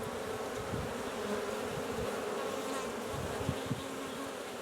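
Honey bees buzz around hive frames in a steady, dense hum with a few soft knocks and bumps.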